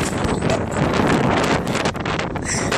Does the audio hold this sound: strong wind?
yes